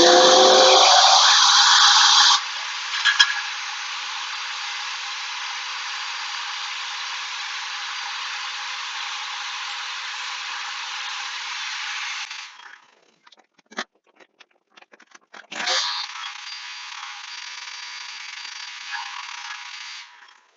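A steady, loud whirring hum of a Shopsmith disc sander with a conical sanding disc running continuously on spalted wood, briefly cutting out and clattering before starting up again.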